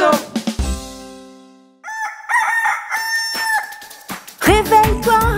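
A rooster crows loudly once, followed by bright, playful music with chiming tones.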